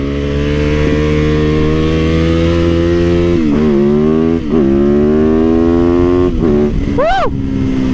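A Triumph Rocket 3 motorcycle engine pulls loud and close through a turn, a steady deep droning roar whose pitch dips and climbs with throttle changes, ending in a sharp rising rev.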